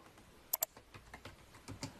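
Quiet, close keystrokes on a computer keyboard while entering a Linux command, about a dozen light taps at an irregular typing rhythm with two sharper clicks early on.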